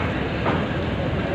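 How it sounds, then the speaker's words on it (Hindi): A 2013 New Holland 3630 Super tractor rolls in at a busy tractor market in Fatehabad, its engine giving a steady, loud, broadband rumble that fills the whole moment without a break. "ये आएगा भाई न्यू ओलैंड 3630 सुपर"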